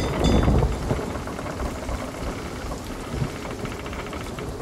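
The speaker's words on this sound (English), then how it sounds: "It's really hard to steer the boat right now because we're getting fucked by the storm." Stormy sea in Sea of Thieves, a dense steady wash of heavy rain with low rumbling thunder and wind, loudest at the start and then holding constant, with no talking.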